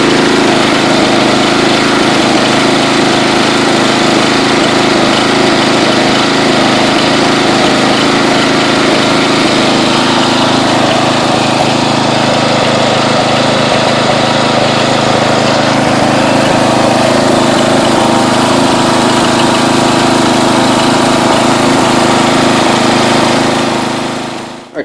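A 1992 Yard King lawn tractor engine idles steadily and loudly close by, a constant rough running drone with a slightly uneven carburetor note, held throughout with no talking.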